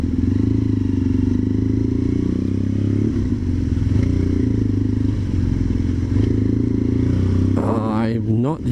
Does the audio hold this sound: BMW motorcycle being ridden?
yes